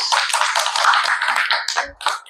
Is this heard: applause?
yes